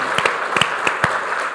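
A small audience at a business advisory talk gives sparse, light applause: a handful of distinct claps at uneven intervals, fairly faint against quiet room tone.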